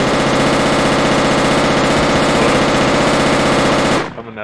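Rapid sustained automatic gunfire from the video game Project Reality, a dense loud burst rattling nonstop for about four seconds before cutting off abruptly.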